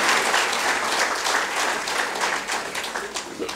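An audience at a public talk about AI regulation breaks into loud, sustained applause, many hands clapping densely and evenly for several seconds with no speech over it.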